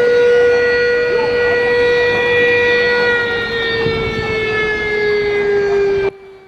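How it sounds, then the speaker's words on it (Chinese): A civil defense air raid siren wails loudly and steadily during a neighbourhood drill in Taipei, a sustained tone that cuts off abruptly near the end. "空袭警报一响，在工作人员引导下，玉城里民快速的往地下室避难。"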